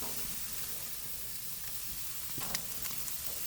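Chicken inasal, T-bone steak and pork chops sizzle steadily on an outdoor barbecue grill in cold weather, a continuous close hiss with a few brief crackles and pops near the end.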